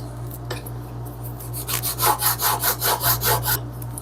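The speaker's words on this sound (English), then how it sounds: "I have switched over to the 1000 grit stone" A spokeshave blade being sharpened on a 1000 grit whetstone, giving steady rhythmic rubbing strokes, about a dozen back-and-forth passes that grow louder after a quiet start, close and alone over a low background hum.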